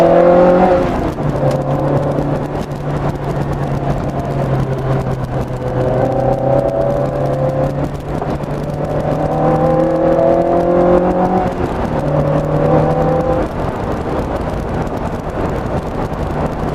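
A Lotus Elise Sport 160 driving on a bumpy road, its engine droning steadily with pitch rising and falling through gear changes, heard from inside the cabin over constant road and wind roar.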